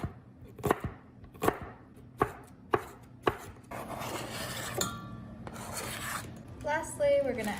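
A knife chops onions on a board, with five sharp evenly spaced knocks followed by softer scraping and rubbing, and a voice talks briefly near the end.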